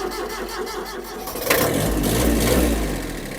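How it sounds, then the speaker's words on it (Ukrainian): A Kubota mini tractor's diesel engine cranks and catches, settling into a loud, steady rumbling idle that fills the rest of the clip. "І завели наш тракторець."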